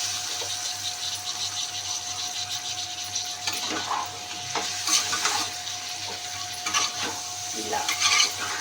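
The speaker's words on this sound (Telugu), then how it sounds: "ఇలా ఆయిల్ పైకి వచ్చాక కడుక్కున్న చికెన్ దీంట్లో" Washed, skinned chicken pieces fry in hot oil for chicken curry, a continuous close sizzling hiss with intermittent scraping and clattering of a utensil in the pan, and no one speaking.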